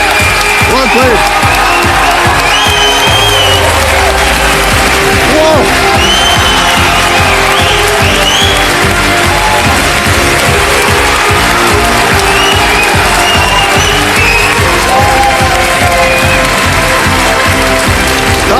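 A TV quiz-show studio audience roars with loud applause and cheering for a winning contestant, dense clapping and whoops filling the whole stretch with music playing underneath and a voice talking over it.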